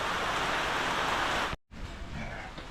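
Light drizzle after heavy rain, heard as a steady broadband hiss of fine rain that cuts out briefly partway through and then resumes slightly softer.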